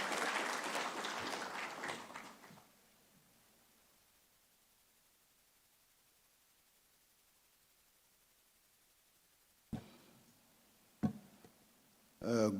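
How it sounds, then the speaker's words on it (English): A conference audience claps for a couple of seconds as a speaker comes up, then the clapping stops and near silence follows, broken by a few sharp thumps and handling noises. "A round of applause for him, please,"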